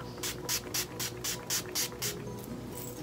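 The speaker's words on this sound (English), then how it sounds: "Oil control setting spray." Eight short, even hissing bursts of oil-control makeup setting spray in a steady rhythm, close by, followed by quiet.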